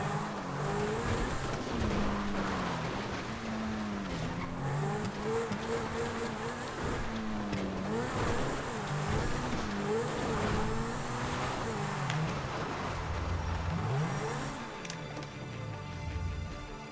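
Car engine droning steadily while driving off-road in GTA Online, with shifting revs and bumps over rough ground, loud and continuous throughout.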